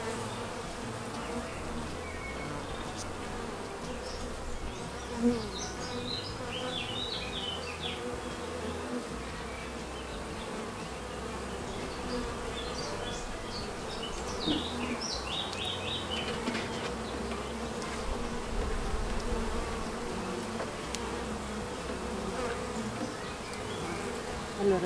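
Honeybees swarm around a top-bar hive as the queen is caught, a dense continuous buzzing drone up close with occasional louder passes by individual bees.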